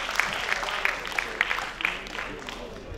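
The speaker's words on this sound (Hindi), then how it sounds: "जोरदार तालियां बजाकर इनका स्वागत करें" Audience at a kavi sammelan poetry recital applauds a poet as he comes on stage, a steady wash of clapping with faint crowd murmur beneath.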